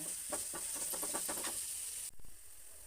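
Onion frying in a pan until translucent: a faint, steady sizzle with a quick run of rhythmic stirring scrapes at first, then a quieter hiss, close and with no voices.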